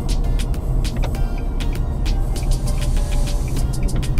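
Busy street noise as a city bus approaches in Nereu Ramos, Jaraguá do Sul, a continuous engine rumble with sharp clicks and rattles on top, fairly loud and close, with no voices.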